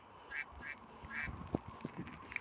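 A duck quacks repeatedly in a Roblox bird simulator game, three short nasal calls in a row followed by softer game noises and a few light thumps, all fairly quiet.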